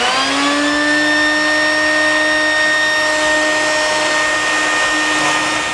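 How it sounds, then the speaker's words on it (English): Shop vacuum running steadily to clear an air conditioner condensate drain line after sanitizer was flushed through it, a loud continuous whine with strong tonal hum that holds level from start to finish, alone with no talk. "I'm going to vacuum it out, and while the vacuum's running, I'm going to go inside."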